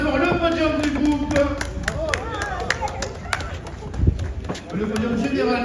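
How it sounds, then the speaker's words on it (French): A crowd applauds the podium winners at the Rallye du Touquet historic car ceremony. The clapping is steady and fairly close, runs under someone speaking over a PA, and carries background crowd murmur. "On peut les applaudir encore bien fort"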